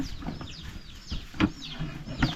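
Chickens clucking at a rural Thai village home, a few short close clucks and squawks in scattered bursts over faint background ambience, with no talk.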